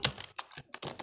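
Quick bursts of computer keyboard typing, brisk clicks in short clusters separated by brief pauses, close and fairly quiet with no talk over them.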